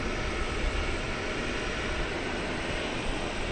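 A Boeing 787 Dreamliner bound for London Heathrow roars steadily at DFW Airport at night, a continuous broad jet-engine rumble with no pauses.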